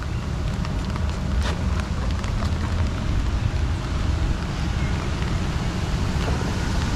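Steady rain pours down during a rafting ride at Bayern Park, a dense, continuous hiss mixed with rushing water and wind buffeting the microphone, loud and close with no talking.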